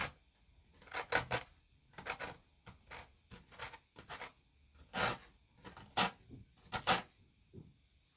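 A hand-held sanding block rasps in short, repeated scrubbing strokes over a small Dollar Tree craft heart, close up, with brief pauses between strokes.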